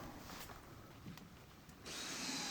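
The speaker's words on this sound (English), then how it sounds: "start screwing the wall board in" Power drill driving screws into wall board during a bathroom conversion, a steady close whir that grows louder near the end, with no talking.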